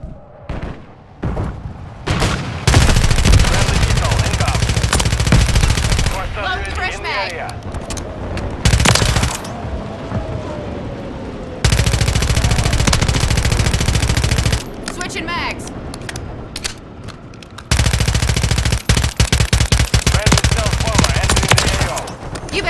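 Sustained bursts of automatic machine-gun fire from a remote turret in a Call of Duty battle, loud and close, coming in long stuttering volleys separated by brief pauses and heavy booms, with indistinct voices mixed into the combat.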